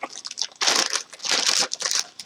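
A plastic bag crinkles close-up while an Asus RT-AX86U router is pulled out of it, giving two loud bursts of crackling with quieter rustles between them.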